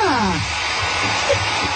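Handheld hair dryer blowing steadily at close range, a loud constant whooshing hum that fills the whole moment without pause.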